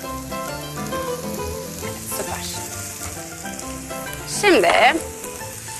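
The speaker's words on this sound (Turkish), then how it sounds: "Tavamıza soğanlarımızı alalım. Şu coz sesini her zamanki gibi duyalım." Onions sizzle steadily in hot oil in a frying pan, a dense, close crackle that runs throughout, with a brief spoken word near the end.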